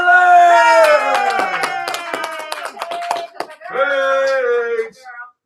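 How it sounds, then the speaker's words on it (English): At a spoken-word poetry show, an audience claps for a poet amid loud, high whooping cheers and shouts. A quick burst of sharp claps sits under the yelling, and a name is called out. "please put your hands together for our first poet to present today. Please clap for Paige"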